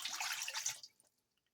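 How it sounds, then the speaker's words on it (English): Cold tap water is poured into a pot for a yellow oyster mushroom growing kit, a close, splashing pour lasting under a second before stopping, followed by a few faint drips. "the first step is to pour your 2 cups of cold tap water"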